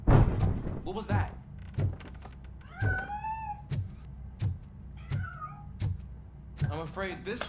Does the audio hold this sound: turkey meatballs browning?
no